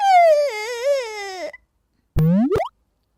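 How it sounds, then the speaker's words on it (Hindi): A high, wavering wail like a child crying in a forest in a cartoon, followed after a brief pause by a short rising whimper; loud and close. "यहाँ कौन रो रहा है?"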